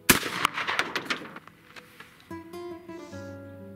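A shotgun fires a reloaded Rio shotshell hull, a single sharp loud blast up close followed by a fading echo, with some bright ringing tones at the tail.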